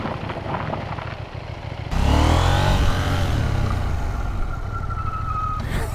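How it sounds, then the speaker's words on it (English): KTM 790 Duke motorcycle engine revving hard while skidding the rear wheel in supermoto mode, the roar jumping suddenly loud and staying strong for several seconds before easing off. "Yes, we can skid up the rear."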